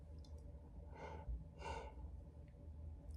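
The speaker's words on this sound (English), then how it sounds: "Sorry, I keep yawning." A person yawning, long and drawn-out, made of two breathy swells about half a second apart. It is quiet and close, and no talk is heard during it.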